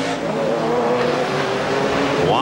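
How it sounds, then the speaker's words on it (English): Turbocharged Nissan GTP prototype race engine at speed during a 1991 IMSA race at Del Mar, a loud close droning whine holding pitch, then climbing sharply as it revs. "Tremendously powerful little engine."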